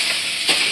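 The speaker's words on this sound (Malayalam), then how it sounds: "നെയ്യ് ഒന്ന് ചൂടായിട്ടുണ്ട്. ഞാൻ ഈ ഒരു ക്യാരറ്റ് ചേർത്ത് കൊടുക്കുകയാണ്." Grated red carrot dropped into two spoons of hot ghee for carrot halwa, giving a brief close sizzling burst with a sharp rise in hiss, heard alone.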